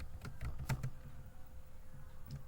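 Typing on a computer keyboard while entering labels into an Excel sheet, a quick cluster of soft close key taps followed by quieter background, no talking.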